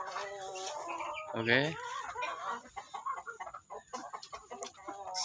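Chickens cluck in an old chicken coop, with one louder rising call near the start and a busy scatter of softer clucks throughout; a voice briefly speaks over them.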